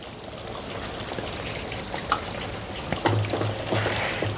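Cardamom pickle with fenugreek powder being stirred in a pan, a loud continuous frying sizzle with occasional spoon scrapes, the stirring growing busier toward the end.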